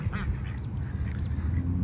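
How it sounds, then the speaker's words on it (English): Ducks quack at Foster Park in several short, nasal calls over about two seconds, fairly close, with faint outdoor background noise and no speech. "look at those ducks right there"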